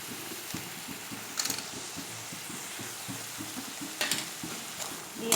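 Drumsticks, peanuts and lentils stir-fried in a pan, with a steady soft sizzle and repeated scraping strokes of a spatula, plus a few louder clatters near the end.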